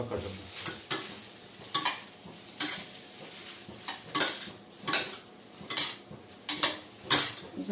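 Veg noodles being mixed with garam masala in a pan, with a utensil scraping and clinking against the pan in repeated strokes, close and fairly loud, with a faint sizzle underneath.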